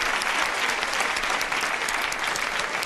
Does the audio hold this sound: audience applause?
yes